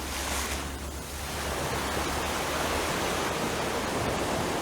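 Ocean surf at daybreak on Heywoods Beach makes a steady, broad wash of breaking waves, continuous and fairly close, with no voices over it.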